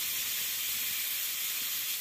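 A steady, strong hiss of steam escaping under pressure from a pressure cooker whistle while cooking dhal, continuous and even throughout with no other sounds.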